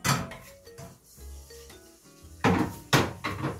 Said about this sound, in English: coat the bottom of my pan, scrape off the steak into the pan